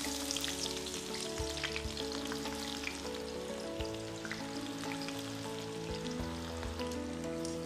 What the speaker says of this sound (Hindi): अब इसी में हम प्याज तलेंगे।